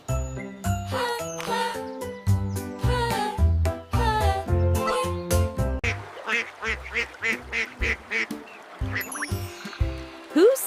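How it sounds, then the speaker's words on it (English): A duck quacks in a short repeated series over a bright, tinkling children's tune, the quacks fairly close and rhythmic against the jingling music. "It's a duck."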